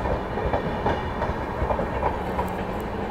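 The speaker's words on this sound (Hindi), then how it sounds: "चलिए तो निकल गई प्रयागराज एक्सप्रेस भाई, VVIP प्रयागराज एक्सप्रेस।" The Prayagraj Express rolls past at speed, a loud continuous rumble with rhythmic clickety-clack of wheels over rail joints, carriages streaming by close at hand without any talking.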